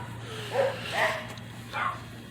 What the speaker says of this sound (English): There's some dogs nearby, so that's why you might hear some barking.